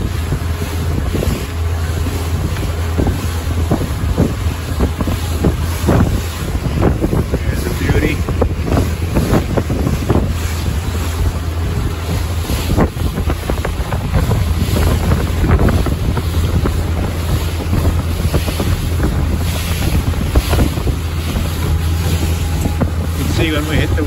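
Carolina Skiff 23LS boat running across choppy water on Lake Worth, with a steady loud engine drone and heavy wind buffeting the microphone, plus splashing hull slaps throughout.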